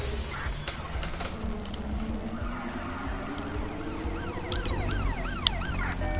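An ambulance siren in the video game Watch Dogs: Legion wails in rising and falling sweeps over a busy street of car engines and traffic noise, growing clearer toward the end.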